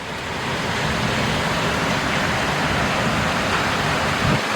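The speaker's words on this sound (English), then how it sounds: "Look at the speed of the rain though. It's like very windy as well." Heavy thunderstorm rain with wind and hail pours down in a dense, loud, continuous hiss that stays steady and close for the whole stretch, with no talk over it.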